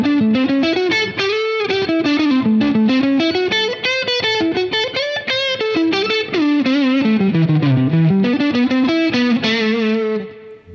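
Electric guitar melody on the neck treble pickup of a small 13-inch semi-hollow Grez Mendocino with redwood top, slightly overdriven with spring reverb, a steady run of single notes bending up and down, loud and alone for about ten seconds.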